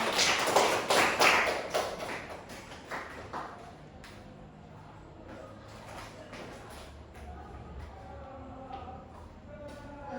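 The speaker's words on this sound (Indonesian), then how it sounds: "beri tepuk aplaus untuk Clara" Scattered claps ring out in a classroom as students applaud a classmate named Clara; the bursts are loudest at first, then thin out into a quieter room with faint voices.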